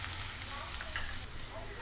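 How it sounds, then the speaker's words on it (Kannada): Onions fry in hot oil in a pan over high flame for cabbage Manchurian, a steady close sizzle lasting the whole short moment. "ಎಣ್ಣೆ ಕಾದ ನಂತರ ಫಸ್ಟು ಸ್ವಲ್ಪ ಈರುಳ್ಳಿ ಹಾಕ್ಕೊಳ್ಳಿ."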